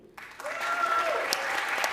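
An audience applauds at a Stellar Shark Tank pitch event at Meridian 2025, steady clapping that swells after a short quiet start and carries on to the end.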